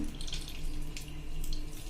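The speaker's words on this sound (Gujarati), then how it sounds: "હવે આપણે આનું બધું પાણી નિતારી લઈએ" Water pours and splashes steadily, a continuous running trickle as water is drained from a bowl of mango, ginger and garlic for pickling.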